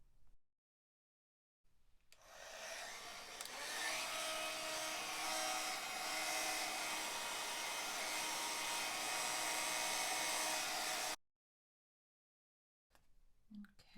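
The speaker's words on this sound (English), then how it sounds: "I'll heat emboss this greeting very quickly" A heat tool blows a steady, loud whooshing drone while melting embossing powder on a greeting card, starting and stopping sharply after about nine seconds, with near silence on either side.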